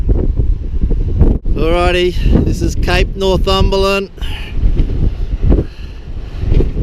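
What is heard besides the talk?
wind on the coast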